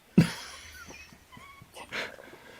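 A dog whimpering: one sharp yelp at the start, then softer, thin whines and breathy whimpers that fade in and out, close by and with no talking.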